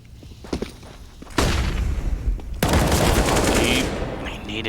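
Dense, loud gunfire in a Counter-Strike esports match, with sustained bursts and overlapping shots under energetic caster commentary.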